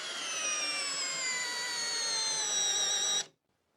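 A Milwaukee M12 or Hyper Tough brushless impact driver runs at low speed during a torque test, giving a steady whining drone for about three seconds before cutting off abruptly into silence.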